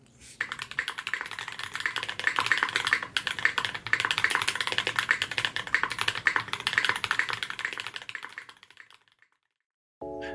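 Steady typing on a modded budget mechanical keyboard, softer deeper keystrokes in a rapid continuous run up close, trailing off into near silence toward the end.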